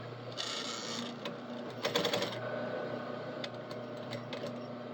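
Sewing machine running a long seam at a half-inch allowance with the foot lowered: steady, fast mechanical stitching hum, fairly faint and continuous throughout, with a brief louder clatter partway.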